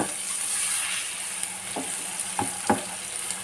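Egg masala gravy with chili powder and salt sautés in oil in a pan over a low flame, giving a continuous close sizzle with a few soft stirring knocks.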